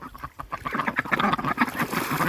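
Excited farm ducks mating near pools of fresh water quack in quick, overlapping bursts, fairly close and moderately loud, with no talking.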